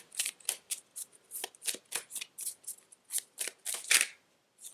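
A tarot deck is shuffled to draw a clarifier card: a rapid series of crisp, close riffling snaps in quick bursts, loud and without talk.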